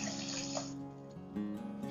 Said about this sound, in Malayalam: നമുക്കിനി ഇതിലേക്ക് 1/2 കപ്പ് വെള്ളം ഒഴിച്ചു കൊടുക്കാം.